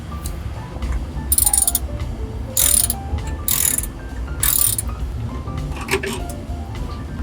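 A Torx wrench is worked on T55 Torx bolts holding a Toyota Probox rear seat, giving bursts of quick ratcheting clicks with pauses between them, close and moderately loud, while someone talks over it.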